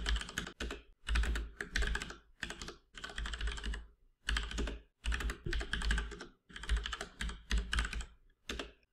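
Typing on a computer keyboard at a terminal: close, quiet bursts of rapid key clicks separated by short pauses, with no voices.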